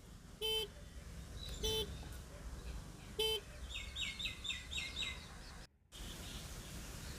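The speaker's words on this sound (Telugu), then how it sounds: "ఇది 2వ హార్న్, సౌండ్ అయితే సేమ్ ఉంది" Three short, loud beeps from the second horn of an Etrance Neo Plus electric scooter, spaced about a second or more apart, with birds chirping softly in the background between them.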